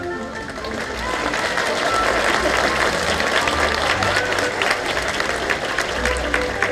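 Zoo sea lion show audience applauding and cheering as a vote, a continuous loud crowd clap with shouts throughout, steady from start to finish.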